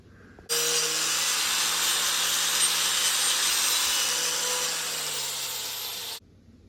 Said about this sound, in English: All we need to do now is just go through and wire wheel it and make sure that we got all the slag off